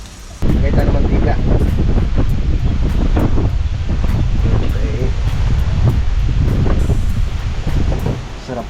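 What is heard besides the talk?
strong wind blowing outdoors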